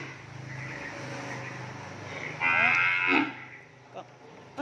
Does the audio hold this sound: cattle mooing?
yes